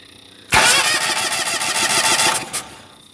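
A Honda engine starting on choke cranks once and catches, then runs loud and close with a rough, fast mechanical rumble before easing slightly near the end.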